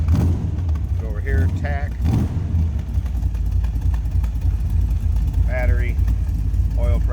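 A 1967 Chevrolet Corvette convertible with a 327 engine runs at a steady, loud low idle, its deep rumble continuous throughout while someone talks over it.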